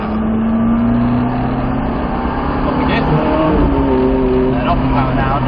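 A Ferrari 430 on a race track powers out of a corner, its engine holding a loud, steady drone that climbs gently in pitch while an instructor speaks over it.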